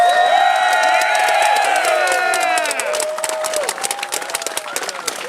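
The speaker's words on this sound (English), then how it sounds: "let's have a moment of raucous applause and appreciation for our marshals!" Raucous crowd applause and cheering for the marshals at a medieval armored melee event, with whoops and shouts over dense clapping and loud, bright, excited voices throughout.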